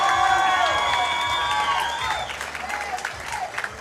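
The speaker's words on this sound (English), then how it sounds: "The crowd likes it." A crowd at a Muay Thai prelims event applauds and cheers, loud at first and slowly fading, with whistles and whoops rising above the clapping.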